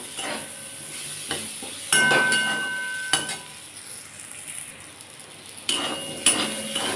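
Raw mango with mustard and chili powder being stirred in a pan, a steady close sizzle broken by sharp scrapes and clinks of the spatula at irregular intervals, with no talking.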